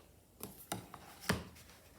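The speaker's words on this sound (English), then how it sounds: "just trim off the edge so it's nice and even" Quilting fabric edge being trimmed, a few separate crisp cuts, roughly three or four short snips close by and quiet, with gaps between them.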